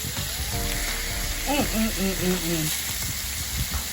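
Cornish hens sizzle on a grill with a steady broadband hiss, while a voice speaks clearly over the frying in the middle of the stretch.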